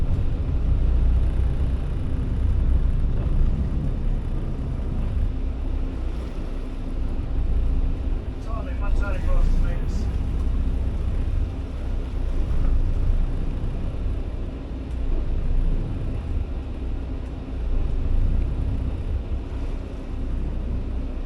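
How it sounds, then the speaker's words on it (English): A Harbour Classic 52 cruiser slows to a stop at sea, its steady low engine and hull rumble mixed with wind buffeting the microphone and a brief warble near the middle. "stop the boat now."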